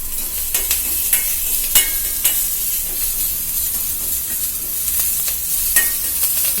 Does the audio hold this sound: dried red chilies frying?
yes